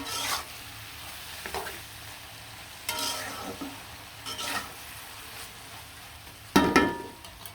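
Boiled taro stolons with shrimp and spices are stirred in a pan over a low sizzle, with a few distinct scrapes and knocks of a spoon against the pan and one louder clatter near the end.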